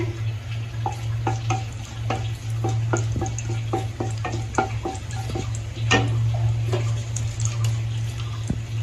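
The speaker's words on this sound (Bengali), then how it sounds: "কড়াইয়ে তেল দিয়ে দিছি, এই যে একটু জিরা দিলাম ফোড়নের জন্য" Cumin seeds crackle and pop in hot mustard oil in a wok, a close, steady sizzle dotted with rapid sharp ticks over a low hum.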